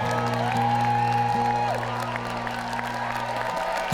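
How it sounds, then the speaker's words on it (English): Studio audience at a robot-combat competition applauds and cheers a winner, a steady wash of clapping with scattered whoops under a droning music bed. "A massive round of applause, taking home one of our winners' tokens."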